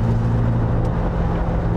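A 2020 Chevrolet C8 Corvette Z51 convertible idles or cruises with a loud, steady low engine drone from its intake and exhaust, a deep humming rumble heard from inside the car with no talking.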